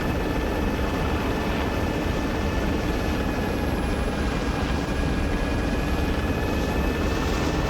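A Russian cargo helicopter flies in the video game Arma 3, its rotor and engine drone steady and loud throughout with no speech over it.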